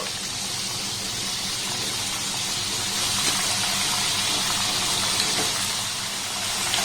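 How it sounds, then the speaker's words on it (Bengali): Thin potato chips fry in hot oil on a high gas flame, a steady, dense hiss and bubbling crackle that stays loud and even throughout, with no talking. "এইভাবে যে কটা ধরবে অল্প অল্প করে আমি ভেজে নেব।"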